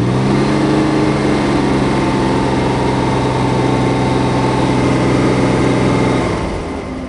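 A Chevrolet Monza engine holds a steady raised rev with strong low harmonics for about six seconds, then drops back toward idle near the end; loud and close, no talk, while its alternator is lazy to build voltage.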